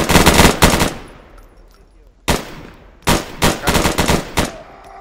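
Loud automatic gunfire in the military shooter Arma 3, rapid close bursts of shots with a lull of echoing decay in the middle before several more clustered bursts ring out.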